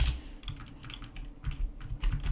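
Fingers tapping out a parameter name on a computer keyboard, quick irregular clicks in short bursts, close and fairly quiet.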